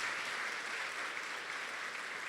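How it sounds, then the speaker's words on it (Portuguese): A church congregation in a Baptist service applauds with a steady, even wash of clapping heard from some distance, fairly faint and continuous throughout. "Vamos aplaudir a Jesus por essas pessoas, gente?"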